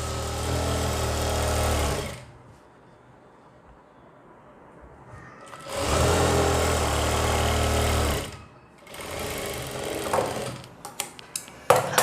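Sewing machine stitching belt salwar fabric in two loud, steady runs of rapid whirring, separated by a quieter pause, then a shorter burst followed by clicks and handling noises.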